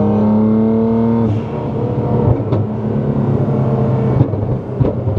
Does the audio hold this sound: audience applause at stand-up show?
no